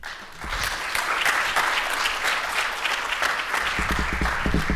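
An audience at a business talk on managing third-party vendors bursts into sustained applause, a dense, even clatter of clapping that holds steady for several seconds.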